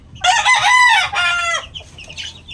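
White Kelso laying hens clucking close by in a small backyard poultry pen, a few loud drawn-out squawking calls followed by softer intermittent clucks.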